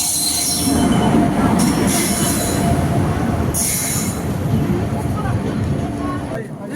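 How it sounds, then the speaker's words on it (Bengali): The Kamrup Express pulling into Bijni Railway Station, a loud rumble of wheels and carriages close by with shrill bursts of wheel squeal, while people talk over the noise. "First time arrival of 15960 Dibrugarh Howrah Kamrup Express at Bijni Railway Station."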